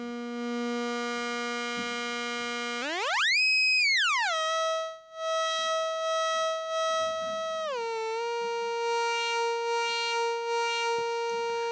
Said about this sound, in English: Let's have a listen to bandpass now.